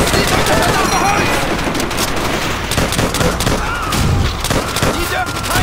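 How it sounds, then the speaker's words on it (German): Rapid, sustained machine gun fire rattles continuously in a Call of Duty: World at War battle, dense bursts overlapping with distant shots and a voice talking underneath. "Dann schießt die durch das verdammte Holz."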